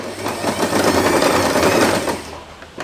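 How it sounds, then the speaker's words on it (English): A sewing machine runs a short back stitch through fabric, a loud close rapid chatter of the needle that holds steady for a couple of seconds and then stops. "Now you can stop sewing until here and give it a back stitch to secure"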